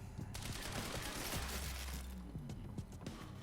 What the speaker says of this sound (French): on va essayer un petit fusil à pompe